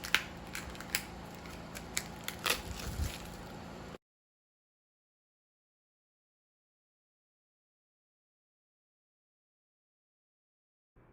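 Scissors snipping through electrical tape, a series of sharp, close crisp cuts with small crunches over about four seconds, then silence.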